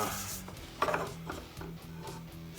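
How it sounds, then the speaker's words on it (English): Rhythmic rubbing and rasping of wet sanding on a black walnut electric guitar body with Danish oil finish, steady back-and-forth strokes close up, with a slightly sharper scrape near the start, no talking. "so that's what prompted me to go ahead and do the wet sand"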